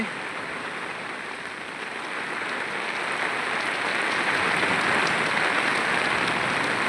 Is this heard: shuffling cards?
no